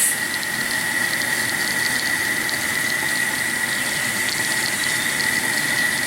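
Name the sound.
steam locomotive injector with water and steam valves opened, LNER A4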